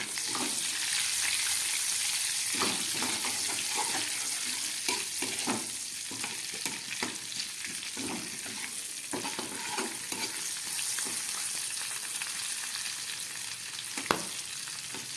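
Four green chillies fry with whole garam masala in a pan, a soft, steady sizzle broken by frequent light scrapes and clinks of stirring, plus one sharper knock near the end.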